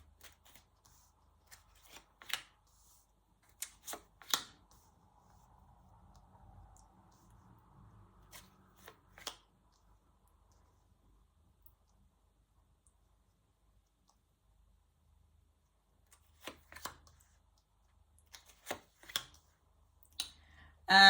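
Tarot cards are shuffled quietly up close in a few short soft bursts with light clicks and taps. Long near-silent gaps separate the bursts, and nobody speaks.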